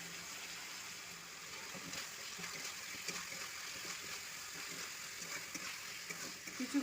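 Fried potatoes go into hot oil and set up a steady, close sizzle and bubbling hiss that carries on without a break at moderate loudness.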